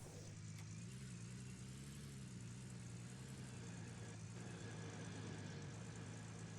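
A truck engine idles and hums steadily in the mining game Gold Rush the Game, a low continuous rumble that stays faint and even throughout the short stretch.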